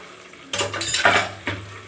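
Metal pot and utensil clatter with soft splashing as gatta (gram-flour dumplings) are tipped into gravy, two sharper clinks standing out near the middle and end.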